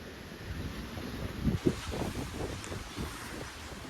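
Strong storm wind gusting over a garden with apricot trees, a rough, low rumbling buffet against the microphone, swelling in uneven gusts without letup.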